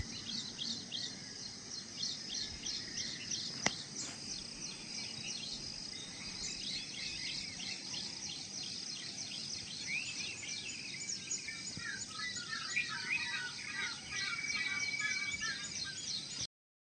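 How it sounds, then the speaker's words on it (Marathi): Dense, busy morning chirping of many sparrows fills the air, steady throughout, with a faint insect-like hiss underneath and no talking. "बघा चिमण्यांचा किती छान मस्त आवाज येतोय"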